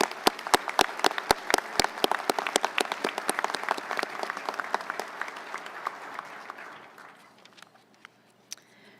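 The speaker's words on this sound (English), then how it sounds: "Please join me in giving a round of applause for awardees." A round of applause for awardees at a Navy luncheon ceremony: crisp, closely miked claps at first, spreading into broad crowd clapping that gradually fades out toward the end.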